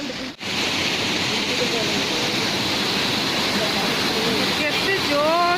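A waterfall in the Darjeeling hills pours hard in a steady, loud broadband roar that stays near and unbroken, with a brief dip near the start and faint voices underneath.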